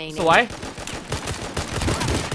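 Rapid gunshots in a mobile shooter game resembling Valorant, a quick run of sharp repeated cracks at close range following a brief rising tone, with a voice talking over them.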